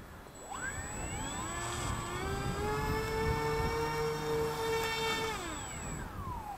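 The electric motor of a Dynam 1470mm PBY Catalina RC model plane whines up to a steady high pitch during a takeoff attempt on a rough grass field, then winds back down, moderately close and with no talking.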